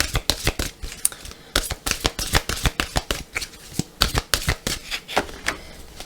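Tarot cards being shuffled and cut, a rapid run of crisp riffling flutters and slaps in uneven bursts, close and fairly loud with no voice over them.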